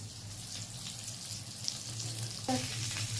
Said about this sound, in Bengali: হালকা মিক্সটা ভাজা হয়ে গেছে এবারে উল্টে দিয়েছি